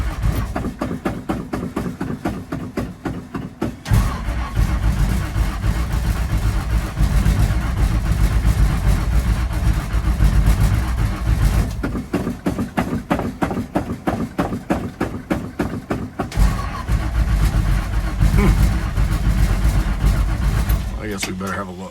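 An old car engine cranks and tries to catch on a failing cold start, with a rhythmic chugging that surges into rough running twice, while someone talks over it.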